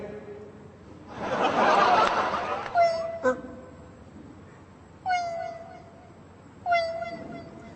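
A human voice imitates a cat meowing beside women cutting fish: after a burst of breathy noise, several short, plaintive mews come one at a time with pauses between, close and moderately loud.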